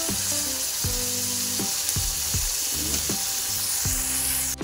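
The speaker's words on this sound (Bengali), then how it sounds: "যেগুলো আমার সুন্দর করে ভাজা হয়ে গেছে, এখন তুলে নেব। একসাথেই ভেজে নিয়েছি।" Vegetables for fried rice fry in a pan with a loud, steady, close sizzle, while a repeating tonal hum sounds faintly underneath and no one speaks.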